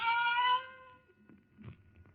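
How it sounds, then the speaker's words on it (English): A single cat's meowing cry used as a sound effect in a radio drama, one clear, moderately loud wail that fades out, followed by faint soft rustles. "the silence was broken by the faint crying of one cat"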